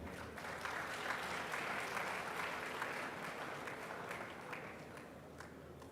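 An audience at a university anniversary ceremony breaks into sustained applause for a speaker, many hands clapping steadily, swelling early and slowly tapering off over several seconds.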